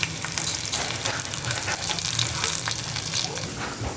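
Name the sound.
black cumin and crushed garlic frying in hot mustard oil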